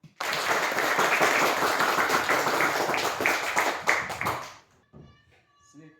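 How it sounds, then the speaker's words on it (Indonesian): A church congregation claps together during a worship service, dense loud hand clapping filling about four and a half seconds before it stops abruptly, followed by faint voices. "Mari kita tepuk tangan."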